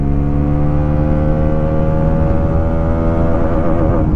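A Bajaj NS400z motorcycle accelerates hard through the gears, its engine note climbing in pitch near the microphone with a shift partway through, loud and continuous without speech.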